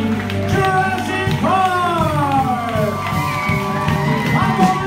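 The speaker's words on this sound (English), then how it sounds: "Let's have a huge round of applause for the casting crew of the Unauthorized Musical Parody of Jurassic" Live audience at a musical parody of Jurassic Park cheering, whooping and shouting loudly and continuously, crowd noise filling the space without distinct applause claps.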